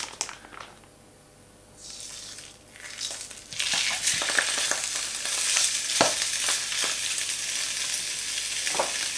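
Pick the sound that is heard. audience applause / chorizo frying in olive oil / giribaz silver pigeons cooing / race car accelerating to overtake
chorizo frying in olive oil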